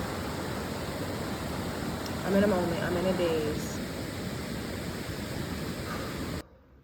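Reach Falls, a waterfall in Jamaica, rushes as a steady broadband roar from start to finish, with a person speaking briefly over it midway.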